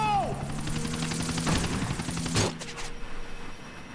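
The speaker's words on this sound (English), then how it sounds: "This ain't like any other chopper I've flown." A military helicopter in Grand Theft Auto: The Ballad of Gay Tony hums with steady rotor drone, while gunfire-like cracks and bursts sound over it before it fades lower.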